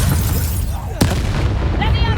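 Bombarda explosion spell cast in the video game Hogwarts Legacy, a single sharp booming blast that cuts through continuous game music and voices, followed by a rumbling tail.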